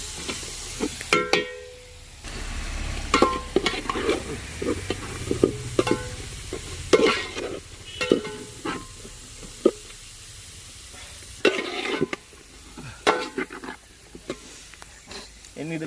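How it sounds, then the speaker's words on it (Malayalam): Chopped onions and green chillies frying in oil for chicken kondattam, with a steady sizzle broken by repeated scraping stirs of a spoon in the pan while a person talks between them. "അതിൻ്റെ കൂടെ നമ്മൾ കട്ട് ചെയ്ത് വെച്ച 1 കിലോ ഉള്ളി കൂടി ചേർത്ത് മൂപ്പിച്ചെടുക്കാം."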